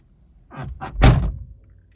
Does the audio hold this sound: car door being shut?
yes